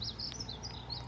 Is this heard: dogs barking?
no